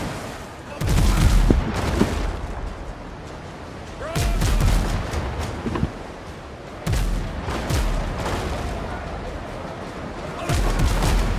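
Ship cannons boom in a WindRose naval battle, heavy deep blasts fired in separate volleys several seconds apart over steady sea and battle noise, loud and close.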